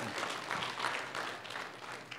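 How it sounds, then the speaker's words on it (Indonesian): A church congregation at a Jakarta Sunday service applauds, a dense and steady wash of clapping heard at low volume. "Tepuk tangan bagi dia saudara."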